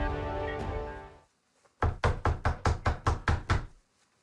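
Knocking on a door, about nine firm, evenly spaced raps in a steady run, loud and close, after a brief stretch of other sound.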